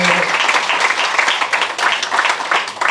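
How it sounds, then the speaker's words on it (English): A crowd at a Vietnam War era veterans pinning ceremony in Mason County claps in a full, sustained round of applause, loud and continuous, with faint voices mixed in underneath. "Let's give all these folks a round of applause"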